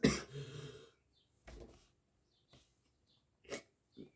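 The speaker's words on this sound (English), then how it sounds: "So that's why I'm going to keep coughing." A person sick with COVID coughs at close range: one heavy, rasping cough at the start, followed by several shorter, fainter coughs and throat clearings separated by quiet pauses.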